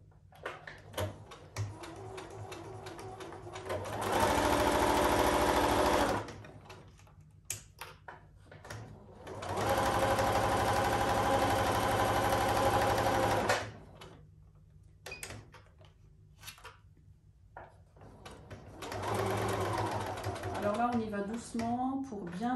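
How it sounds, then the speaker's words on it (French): A sewing machine stitches a seam in fabric for a Christmas stocking, running in three sustained whirring bursts of several seconds each, with quiet clicks and handling noises in the gaps. "On vient coudre à 1 cm tout du long."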